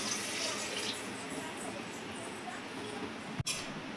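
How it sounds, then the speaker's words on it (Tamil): Water poured into a pressure cooker holding sambar ingredients (dal, raw mango and chow chow), a steady rushing splash that runs throughout, ending with a sharp click near the end. "இதுக்கு தேவையான அளவு தண்ணி ஊற்றிக்கலாம்."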